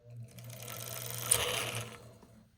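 A Wizard sewing machine winding a bobbin: a steady, quiet motorized whir with a low hum that rises slightly mid-way and then tapers off, heard alone.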